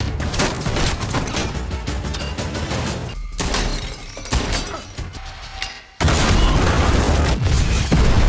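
A bomb detonating in a film scene, with loud booming, crashing and debris-like roar that fills most of the stretch, breaks off briefly, then surges back hard.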